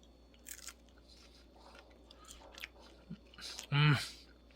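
Brussels sprouts dressed in truffle oil are bitten and chewed in a kitchen, a single loud crunchy burst arriving near the end after quiet room noise and a few soft rustles.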